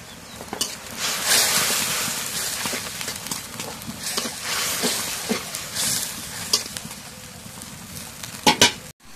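Cumin, garlic and garam masala paste sizzling and frying in a pan, with a steady crackle broken by repeated scraping and clacking from stirring, including a few sharper knocks near the end.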